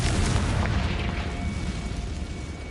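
Confringo spell blast in Hogwarts Legacy: a single heavy booming explosion right at the start, decaying into a rumbling, crackling tail that stays loud through the rest.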